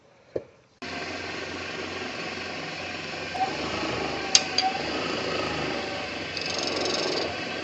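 A wood lathe turns down a segmented bespoke fountain pen blank, giving a steady, continuous whirring drone that starts abruptly and runs close and fairly loud, with a few brief clicks and knocks on top.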